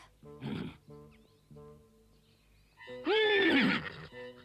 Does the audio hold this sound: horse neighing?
yes